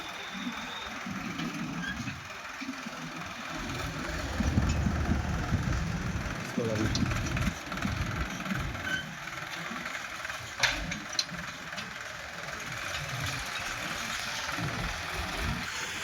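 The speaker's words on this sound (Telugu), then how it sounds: "నా ట్రాక్టర్ వచ్చింది" A tractor engine runs steadily through the whole stretch, a low continuous rumble that swells slightly in the middle, moderately near, with people talking over it.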